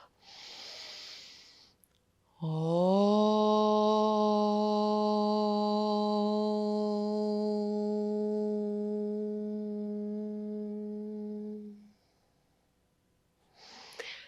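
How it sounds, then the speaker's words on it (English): A group chants a single long, sustained Om during a yoga session, a steady harmonic drone held for about nine seconds after a breath in, with quiet breathing before and after. "we'll set it together by chanting Om one time"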